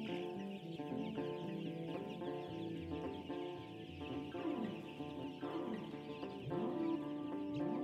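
Many chickens on an organic, agroforestry poultry farm cluck and chatter continuously in a dense, overlapping flock, with occasional distinct squawks standing out close by.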